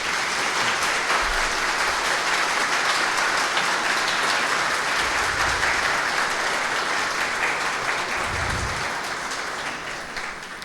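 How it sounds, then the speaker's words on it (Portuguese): An audience at a public meeting applauds with a dense, steady roar of clapping that holds for about ten seconds and then starts to fade, with no voices over it. "vamos dar uma salva de palmas aqui para o Newton"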